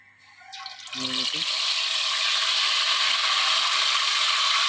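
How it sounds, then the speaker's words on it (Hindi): Marinated chicken is dropped into hot oil for frying, bringing a sudden rush of close sizzling that quickly builds into a loud, steady crackle. "ऑयल गर्म हो चुका है, अब हम इसके अंदर चिकन को फ्राई करेंगे।"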